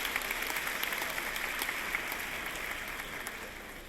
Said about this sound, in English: Let's give a round of applause to Rico